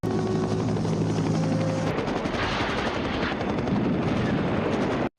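A military helicopter in a Vietnam War film scene thunders loud and close throughout, its rotor roar mixed with bursts of machine-gun fire and explosions, with no talking.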